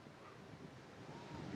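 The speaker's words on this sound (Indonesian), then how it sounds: "Ya Elvira, saya berada di Pantai Muaya, salah satu pantai yang tidak hanya menarik kalau di sore hari" Waves and surf wash in at Muaya Beach in Bali, a steady broadband roar mixed with wind noise, building a little louder near the end with no voices.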